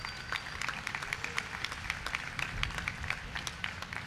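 A crowd applauds assemblymen, senators and city council members at the Kosciuszko Bridge opening, with steady, fairly faint clapping spread through the audience.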